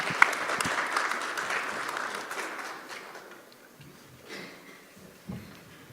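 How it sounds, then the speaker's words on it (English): An audience applauds a panel of co-panelists at a food processing industry conclave, a loud burst of clapping at the start that gradually fades to scattered claps and quiet. "one more round of applause for my co-panelists."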